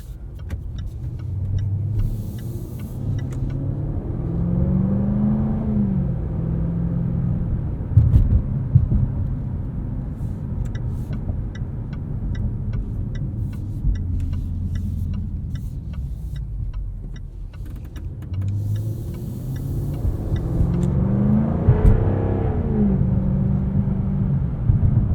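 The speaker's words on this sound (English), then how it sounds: "And the exhaust makes some fun sounds too." A 2023 Jaguar F-Type R Coupe's exhaust drones and rumbles while driving, swelling in two loud revving pulls with crackles and pops between them, close and continuous with no talk.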